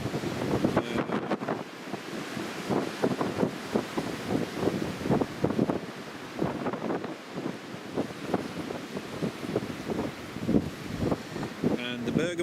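Strong Storm Otto wind gusts buffet the microphone in rough, uneven surges at Newcastle International Airport, with a voice speaking faintly underneath.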